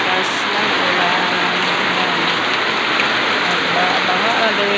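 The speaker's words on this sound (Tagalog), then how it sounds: "Ang lakas ng ulan. Ang lakas-lakas ng ulan." Heavy rain pouring down in Cagayan de Oro, a dense, continuous hiss of drops hitting surfaces, loud and unbroken throughout.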